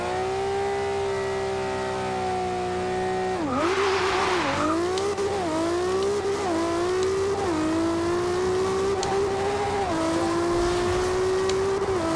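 Toyota Supra in Forza Horizon 2 revving hard under sustained acceleration, a loud steady engine drone climbing through repeated gear shifts with a brief tire-squeal burst early on; no voices.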